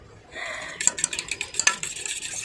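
Eggs are whisked in a bowl with a utensil, giving a quick run of light clinking and scraping taps that rise, then settle into softer stirring, close and fairly faint.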